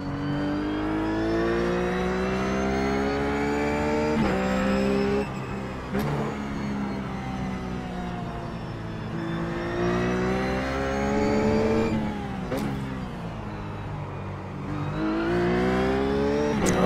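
A Ruf GT3 race car engine in the iRacing game at Sonoma, droning loudly and steadily with harmonic revs that rise and fall through gear changes over about seventeen seconds, with no voices.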